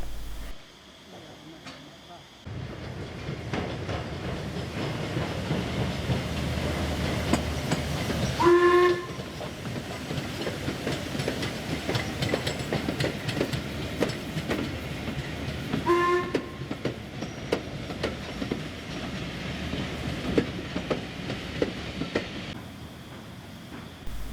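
A steam train rumbles and clatters steadily as it pulls away, sounding two short whistle blasts along the way.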